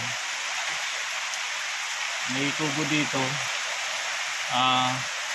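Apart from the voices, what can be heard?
heavy rain on a mountain trail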